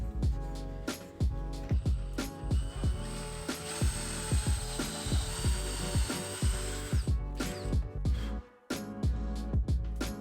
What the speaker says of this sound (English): I'm just going to clamp that right on the center of my marks and then just drill the holes.